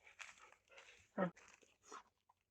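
A single sharp dog bark rings out close by, surrounded by soft murmuring and light rustling.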